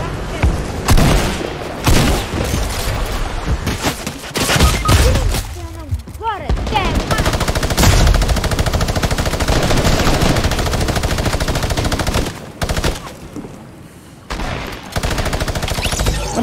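Minigun firing in the Fortnite video game, long rapid bursts of gunfire with booms and short gaps, loud and dense, while players talk over the action.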